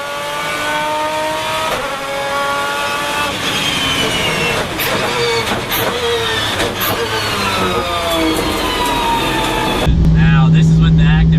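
A car engine revs up and drops repeatedly through quick gear shifts with active rev matching, rising pitch sweeps followed by blips, loud and close, ending in a steady idle-like drone.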